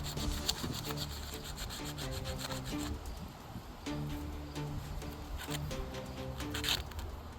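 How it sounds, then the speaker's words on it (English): Wood is sanded by hand with 100 grit sandpaper, making a steady, close rasping scrub that carries on with little break and a few faint knocks. "I'm taking 100 grit sandpaper right now. And I am just going to go around and sand this down."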